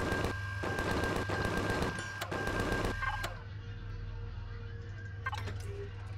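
Rapid automatic gunfire from a weapon in the space survival game Empyrion, loud, dense bursts for about three seconds, then a few scattered shots over a lower mechanical hum.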